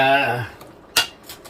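Metal utensil clinking and scraping against a pan while eggplant is mixed into pinakbet vegetables, a few sharp close clatters after a brief stretch of voice at the start.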